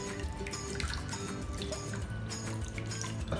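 Water pours into a pot to make sugar syrup for brownie cookies, a steady close trickle and splash that fills the background under a faint kitchen hum, with no talk.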